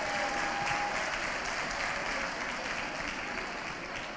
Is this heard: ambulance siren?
no